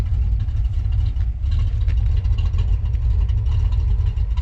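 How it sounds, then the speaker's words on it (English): An old Chevrolet Impala tow car's engine runs steadily, a low rumbling idle close by with a constant throb and no speech. "fixing to go home using the old Impala tow vehicle"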